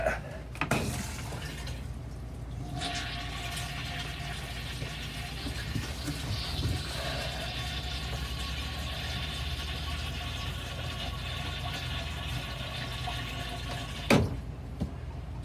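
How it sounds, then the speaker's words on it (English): A repaired RV toilet filling with water, a steady rushing hiss of water running continuously after a sharp click at the start, ending with a brief clunk near the close. "Turn the water on. Hopefully it won't fly everywhere."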